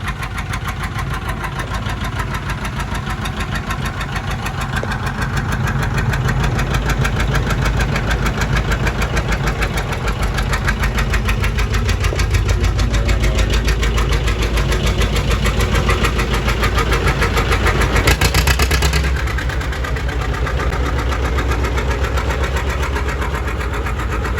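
A two-cylinder John Deere 830 tractor, direct-start with no pony motor, runs steadily with a loud, even, thumping beat that continues throughout, with no voices.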